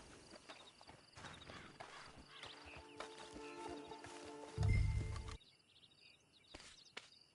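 Horse hooves clip-clop in Red Dead Online as the horse walks along, a steady rhythm of hoofbeats with a louder burst in the middle, birdsong and ambient game sounds around it.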